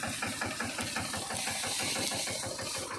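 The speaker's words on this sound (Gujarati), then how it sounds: "આ રીતનું કંઈક આપણું હાલે ટ્રેક્ટર" A farm tractor engine runs steadily at idle, close by, with a continuous knocking mechanical rumble throughout and no talking.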